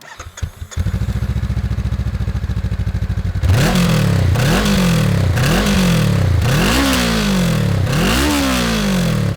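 A 2022 Honda CBR500R with a 180-degree parallel-twin engine of about 470 cc idles with a fast, even burble, then revs hard in five rising, falling bursts, loud and close.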